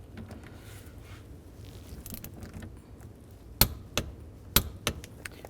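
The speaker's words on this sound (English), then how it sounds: "Now I'm going to torque this nut to 29 foot-pounds" A torque wrench tightens a nut to 29 foot-pounds on a 2003-06 GMC Yukon steering column, giving a few sharp, close clicks near the end after quiet fiddling with the mechanism.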